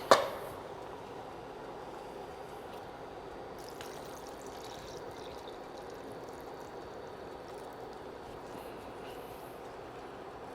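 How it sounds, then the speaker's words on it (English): Water poured into a pot of pigtail pelau with coconut milk, a steady soft splashing and trickle that runs unbroken for about ten seconds after a brief clank at the start. "I will just cover all the ingredients with water."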